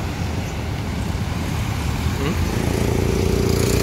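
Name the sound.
tour bus passing on the road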